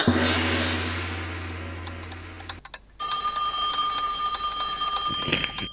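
A telephone rings with a bright, repeating electronic ring that starts after a short, louder opening sound and continues steadily and fairly loud to the end, with no talk over it.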